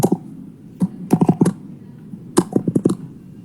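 Computer keyboard keys clicking in short bursts while code is typed, a few isolated taps followed by quick rhythmic clusters, close and fairly clear with no voices.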